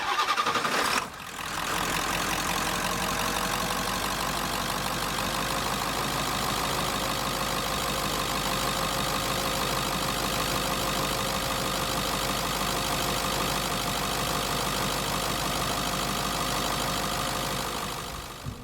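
A 1996 Ford F-250 with a 7.3L Powerstroke diesel cranks briefly, catches, and settles into a loud, steady clattering idle close by, running evenly for the rest of the time.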